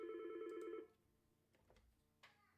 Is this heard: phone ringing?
yes